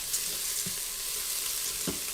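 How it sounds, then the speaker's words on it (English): Rice sizzling in browned butter inside an Instant Pot, a steady close frying hiss with a couple of soft stirring knocks, no talking. "You're gonna hear it sizzle."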